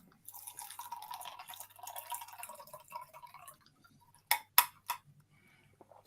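Smirnoff vodka and canned Appletiser poured into a glass after a shake, a quiet trickling stream followed by a few sharp clinks and splashes near the end.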